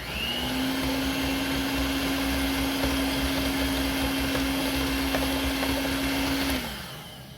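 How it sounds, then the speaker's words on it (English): Electric whisk or blender beating a yoghurt mixture for khari curry, a loud steady whir running close for several seconds before winding down and stopping. "Just give it one last whisk before adding it in."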